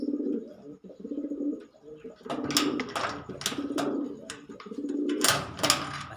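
Domestic pigeons coo repeatedly and close by in a backyard loft where a hen has just laid eggs, the low rolling calls coming in several bursts with a faint voice underneath.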